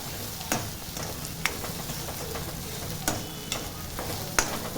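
Onions and crushed ginger sauté in sesame oil for a prawn gravy, giving a steady, soft sizzle close by, broken about five times by sharp clicks of a spoon against the pan as the mix is stirred.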